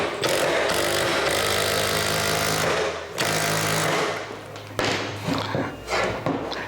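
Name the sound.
cordless drill struggling in hard wood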